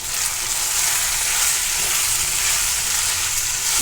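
Mixed vegetables sizzle steadily and loudly as they are stir-fried and tossed together in a pan.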